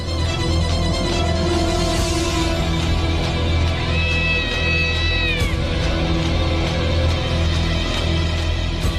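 A cat meows with a rising, drawn-out call over a steady low background hum, no voices present.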